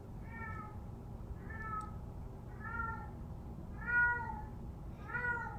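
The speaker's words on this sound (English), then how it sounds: "I'm hearing my cat." A domestic cat meows five times in a steady sequence, each call drawn out and fairly close, with a soft background hum beneath and no talking.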